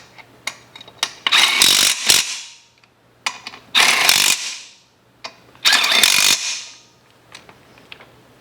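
A power tool drives bolts through steel dump bed subframe parts with a 1/4 inch stiffener inside, heard close up as three loud, whirring bursts of a few seconds each, separated by pauses with scattered clicks and knocks.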